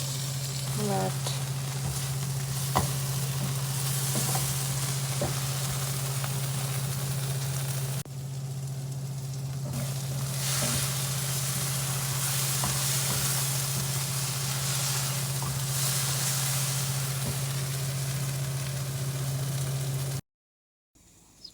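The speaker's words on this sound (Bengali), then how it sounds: "এই মশলা কষা হচ্ছে এখন" Spice masala fries in a pan in a home kitchen, a steady close sizzle with occasional stirring scrapes, under a constant low hum, briefly dipping midway, with a short spoken word near the start.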